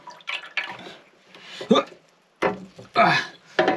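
Water splashes and gurgles in uneven bursts as it flows through a hose into a water heater tank being installed, with short pauses and dripping between surges, heard close up.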